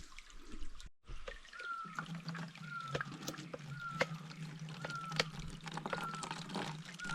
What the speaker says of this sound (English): we're going to use this Sawyer water filter and get some water into our water bottles